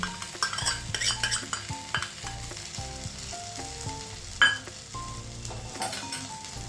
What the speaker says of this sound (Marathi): भाज्या गरम झालेल्या आहेत त्यामध्ये मी एक चमचा रेड चिली सॉस टाकत आहे